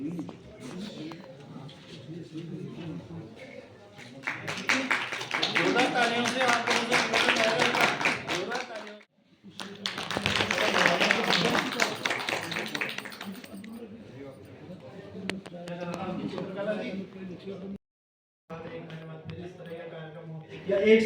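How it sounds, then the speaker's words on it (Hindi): A crowd at a public event in Rikhnikhal, Uttarakhand applauds heavily in two long bursts with a short break between, followed by scattered lighter claps; a voice speaks over a PA at the start and end. "जोरदार तालियों"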